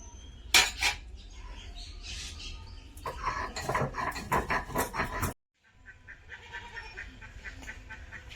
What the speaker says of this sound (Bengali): এখন জিরেটা বেটে নিচ্ছি